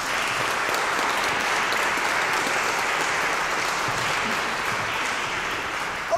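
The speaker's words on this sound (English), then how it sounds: "Another round of applause for Graham Blee." Sustained applause for a brass band soloist from the Ifton Colliery band, a broad, even wash of many hands clapping at a steady level throughout.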